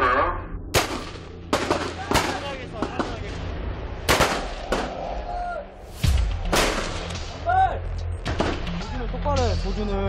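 Rifle gunfire at a military training range, sharp loud shots ringing out in an irregular series of single reports and short clusters, with voices calling out in the background between them.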